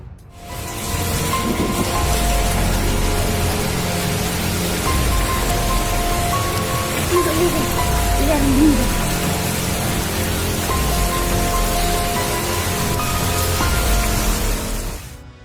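Heavy rain falls steadily in a village in India, a dense continuous roar of rainfall with faint low rumbles, no voices.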